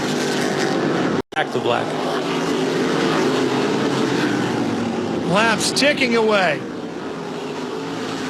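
NASCAR Whelen Modified race cars roar around Myrtle Beach Speedway, a loud sustained engine drone with passing cars rising and falling in pitch, under continuous commentator talk and a brief dropout early on.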